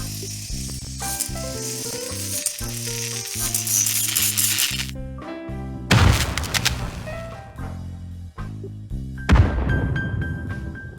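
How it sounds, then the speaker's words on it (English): Unused hand grenade effects from Plants vs Zombies Garden Warfare play one after another. A rattling, sizzling fuse-like hiss with tonal game sounds comes first, then two sharp explosion bursts, one near and one more distant. "There are unused sounds for a hand grenade"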